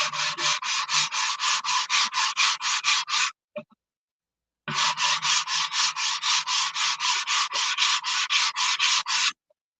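Sanding with 80-grit sandpaper on wood: loud, steady back-and-forth rasping strokes in a fast even rhythm, about a dozen in a run, then a brief pause with a small knock, then another long run of strokes.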